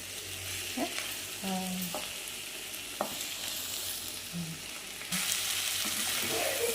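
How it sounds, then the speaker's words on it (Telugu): Broad beans and brinjal cooking in oil, a soft steady sizzle with a few spoon scrapes and clinks, close and fairly quiet, the frying growing louder near the end. "చూడండి ఇలా బాగా కొంచెం నూనెలో మగ్గాలి"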